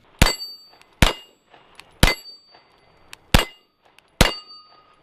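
Five unsuppressed shots from a Canik TP9 Elite Combat pistol, sharp loud cracks spaced roughly a second apart, each with a short ringing tail and faint metallic echoes between them.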